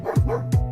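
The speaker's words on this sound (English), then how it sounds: "Apologies if you can hear Daruk barking" Two sharp, close barks from a dog indoors reacting to neighbours outside, in quick succession, loud and resonant, with a brief gap between them.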